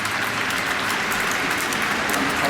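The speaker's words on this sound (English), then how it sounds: "And the applause is for what? It's for the 100 partnership." Crowd at a Test cricket match between England and India applauding a 100 partnership, a dense, even wash of distant clapping that holds steady throughout.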